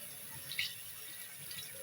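Tap water runs softly and steadily over hands, a faint trickle with a brief splash as the hands pass under the stream.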